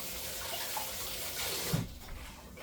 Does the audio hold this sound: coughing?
no